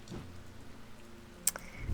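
Rain falling in the video game Strange Antiquities: a soft, steady hiss of drops fills the background, joined by a few brief louder spatters near the end.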